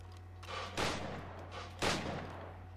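Gunfire in the video game Assassin's Creed Black Flag, two loud booming shots about a second apart over a steady low background hum.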